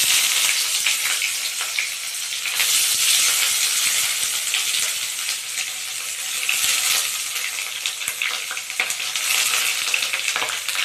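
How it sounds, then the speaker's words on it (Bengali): Chopped onions fry in a pan for chicken masala, a dense steady hiss and crackle with occasional stirring scrapes, loud and close with no talking. "লাল লাল করে ভেজে নেব,"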